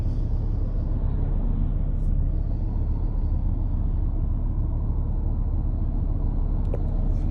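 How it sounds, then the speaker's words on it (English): Steady, loud engine rumble heard from inside a 2018 Audi TT RS pulling away from a stoplight, a constant low drone with road noise and no talking. "I'll let you see what it sounds like from inside the car in comfort"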